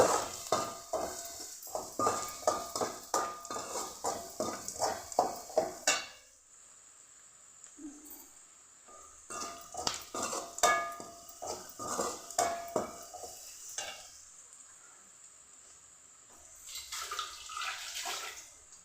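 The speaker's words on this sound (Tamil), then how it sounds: "இதை நல்லா அந்த தூளுகள்லாம் கொஞ்சம் பச்சை வாசம் போகிற வரைக்கும் வணக்கிக்கலாம்" Onions sautéed with spice powders in a pan for garlic rice, heard as repeated metal-on-pan scraping and clinks in quick bursts, a quiet pause, then more stirring clatter.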